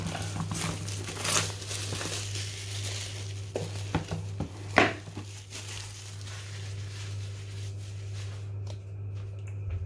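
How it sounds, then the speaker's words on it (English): Plastic packaging crinkles and rustles close by while a Xiaomi Mi Vacuum Mini is unboxed, with irregular crackles and a few sharper crumples over a low steady hum. "taking out all the plastic"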